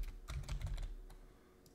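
A few quick keystrokes on a computer keyboard, close and soft, in a short burst followed by quieter clicks in an otherwise still room.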